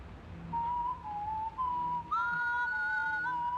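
A whistled melody from strangers in the video game White Stag, a few clear sustained notes rising and falling, the later phrase doubled into a fuller tone, set against a soft background hum.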